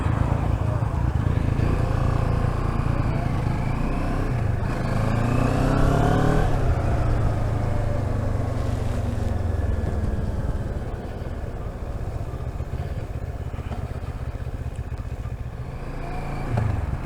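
A Moto Morini Seiemmezzo SCR motorcycle engine drones loudly while riding, its pitch rising and falling as it revs through the gears with a clunky first gear. Wind rush sits close underneath, and a voice speaks briefly over it.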